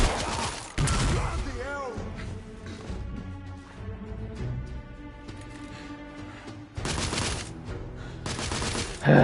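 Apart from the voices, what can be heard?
grenade explosion and gunfire in the video game The Order 1886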